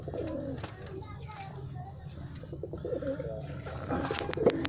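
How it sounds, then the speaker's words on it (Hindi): Black-and-white cheet pigeons coo repeatedly inside a home loft in Canning, West Bengal, their soft throaty calls layered close together with faint voices and household noise behind. "इसको चीट कबूतर कहते हैं।"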